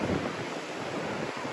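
Takkakaw Falls in Yoho, Canada roars as a steady, dense wash of falling water, broadband and unbroken, close by with wind buffeting the microphone.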